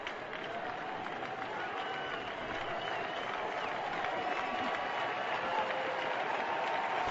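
Steady broad crowd noise from 36,008 fans at a Kansas City Royals vs. Texas Rangers baseball game, cheering and applauding for pitcher Sam Dyson on a full count; a continuous, even roar that builds slightly toward the end.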